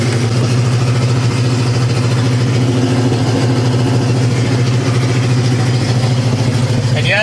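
Pontiac LeMans with a 455 V8 and ignition trouble, running at a rough, loud, close idle with a deep steady rumble throughout, no talk over it.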